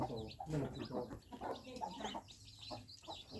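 Chickens cluck and squawk in a farmyard along with other birds, in short irregular bursts at a low level with a faint background hum.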